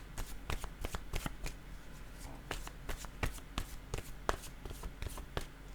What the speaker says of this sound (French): Je pense que je vais piger une carte mot.